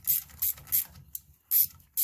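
Hex key socket tightening bolts on a TRex carburetor, a close series of short ratcheting clicks in quick bursts with brief pauses between them.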